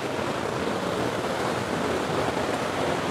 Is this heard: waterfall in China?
yes